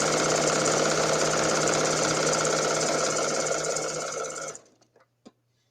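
A sewing machine chain-sews quilt strips in one fast, steady run of stitching that stops abruptly, followed by a few soft clicks.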